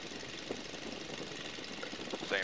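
Boeing N2S-3 Stearman biplane radial engine running steadily on a single magneto during a mag check, a continuous rough, knocking drone with no break across the whole stretch.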